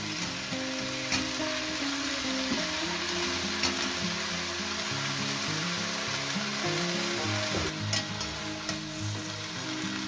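Leafy greens frying in a pan, a loud steady crackling sizzle throughout with occasional stirring clatter, no talk.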